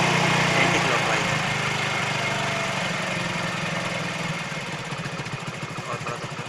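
A Hero Splendor iSmart motorcycle engine idling during a mileage and idle-speed adjustment, a steady close chugging rumble that settles slightly lower as the throttle is eased back, with someone talking over it.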